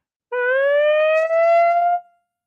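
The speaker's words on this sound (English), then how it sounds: "you might hear the alarm signal going off here" An alarm siren sounds alone in one sustained rising wail, steady and loud for under two seconds with a brief dip midway, then cuts off.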